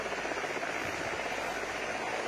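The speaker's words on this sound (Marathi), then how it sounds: "याच हेलिकॉप्टरमधून पंतप्रधान नरेंद्र मोदी हे आता मुंबईकडे रवाना होतील" A helicopter carrying Prime Minister Narendra Modi departs Nashik, giving a constant broad roar of rotor and engine noise with no breaks.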